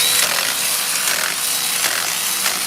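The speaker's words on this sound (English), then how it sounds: "These are Milwaukee, taking off only the 12 millimeter bolts." A Milwaukee power tool breaking free 12 millimeter bolts on a Prius during a head gasket replacement, giving a steady, loud, harsh whirring rush that runs without a break and has no talk over it.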